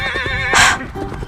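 A horse whinnies loudly and close by in a single wavering neigh that ends in a breathy snort-like burst, heard on its own.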